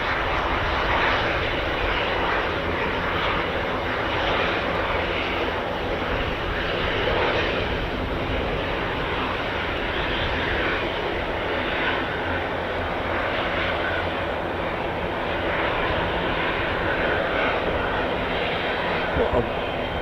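A fixed-wing airplane arriving at RAF Fairford for the Royal International Air Tattoo roars steadily and loudly throughout, a broad continuous engine drone with a faint voice underneath.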